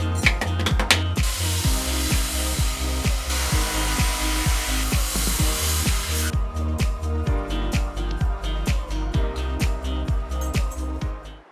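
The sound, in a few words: CNC machine milling the second side of a carabiner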